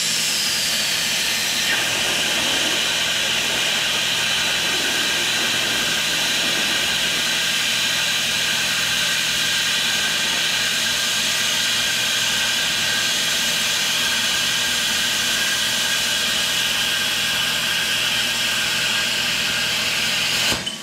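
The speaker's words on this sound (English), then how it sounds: "I just continued my cut here, and you can see that you get some slag when you use a plasma cutter" A Miller Spectrum 375 plasma cutter slices through metal with a loud, steady, unbroken hiss and roar that holds constant for the whole span, with no voices over it.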